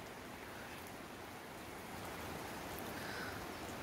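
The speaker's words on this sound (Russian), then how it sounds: "И у нас снова дождь." Rain falling steadily outdoors at a country dacha, a faint, even hiss of drops with no speech, unchanging across the few seconds.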